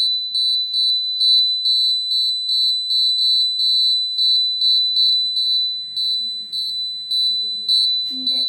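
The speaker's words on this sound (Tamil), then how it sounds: "நிலநடுக்கம் ஏற்பட்டால் இந்த அலாரம் அடிக்கும்" The alarm on a homemade earthquake detector beeps in a fast, even run of short, shrill pulses. The beeps are loud and close and keep going almost without a break, with faint background noise near the end.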